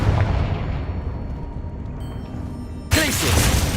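A Confringo fire spell bursts in the Hogwarts Legacy video game, a rumbling blast that fades, then a sharp new burst of noise near the end, loud and heard alone.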